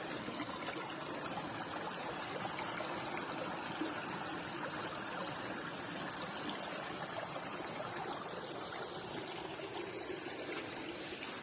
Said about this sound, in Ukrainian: Водичка.